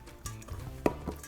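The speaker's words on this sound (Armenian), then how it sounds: "Խառնում եմ։" Eggplant roll filling is stirred in a frying pan, giving soft scraping strokes and a light sizzle with a couple of sharper utensil knocks, close and quiet.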